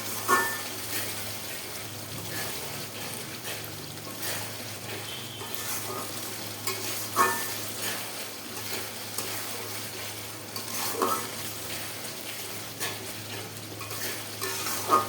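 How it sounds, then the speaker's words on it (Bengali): Spice masala stir-fried in oil gives a continuous low sizzle, with repeated scraping strokes of a spatula against the pan at a fairly steady, unhurried rhythm, fairly quiet and close. "সব মশলা দিয়ে মশলাটা কষাচ্ছি।"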